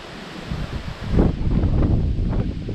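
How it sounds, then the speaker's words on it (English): Strong wind gusts through a leaf-strewn backyard on a rainy day, a loud, blustery rush with rustling that swells and stays heavy against the microphone. "It's windy as hell."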